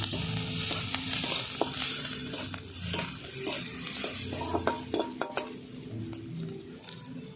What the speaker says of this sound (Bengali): পেঁয়াজ কুচি আর লঙ্কা কুচি ভালো করে ভেজে নেব